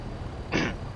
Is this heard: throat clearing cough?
yes